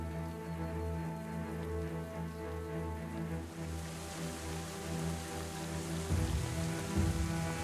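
Steady rain in the Going Medieval game falls on surfaces, a continuous patter of drops over a low, sustained hum, with a brief heavier, rougher burst near the end.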